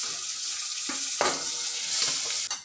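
Curry leaves hit hot oil for a dal tempering with a loud, steady frying hiss, a few sharper crackling bursts spiking through the continuous sizzle up close.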